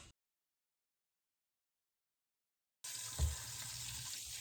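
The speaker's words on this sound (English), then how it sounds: "first I will start with frying the chicken quickly on all sides" Chicken frying in a pan, sizzling abruptly after a long stretch of silence, with a steady hiss and a brief low thump.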